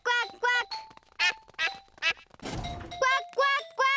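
A cartoon pig character's voice imitates a duck, repeating short quacking calls in a steady rhythm of quick bursts, clear and close, with a brief noisy thump partway through.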